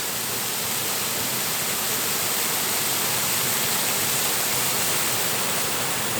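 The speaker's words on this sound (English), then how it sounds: "And this is Mountain Fork Creek Falls." Mountain Fork Creek Falls, a waterfall in an Ozarks canyon, roars in a steady, loud, continuous broadband rush of falling water, unbroken and with no voices.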